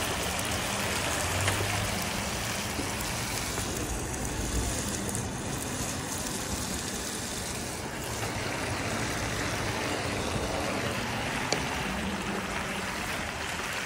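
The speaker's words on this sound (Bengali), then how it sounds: "এখন এটার মধ্যে আমি পুঁই শাকটা ঢেলে দিই।" Malabar spinach (pui shak) tipped into a hot pan gives a dense, steady sizzle, loud and close, continuing evenly without pauses or talk.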